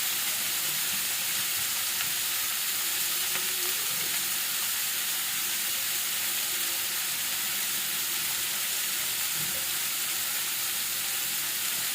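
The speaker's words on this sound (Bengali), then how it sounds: "এটা একটু রান্না হতে থাক" Pumpkin fries in a cast iron pan, giving a continuous, even sizzle and hiss that stays steady from start to end, with no talk over it.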